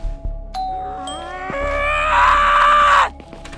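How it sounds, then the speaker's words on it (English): A doorbell in the SchoolBoy Runaway video game rings with a bright sustained electronic tone that swells and holds for about three seconds, loud and clear with no talk. "16th doorbell."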